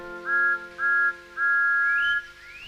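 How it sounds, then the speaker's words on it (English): The steam whistle of Thomas the engine sounds three clear tones, two short toots then a longer one, fairly near and without speech. "Then Andrew heard Thomas's whistle."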